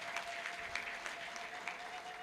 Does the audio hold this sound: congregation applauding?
yes